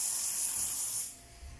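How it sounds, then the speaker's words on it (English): An aerosol spray can releases a single steady hiss for about a second indoors, close and fairly loud, then stops abruptly. "let me spray some stuff"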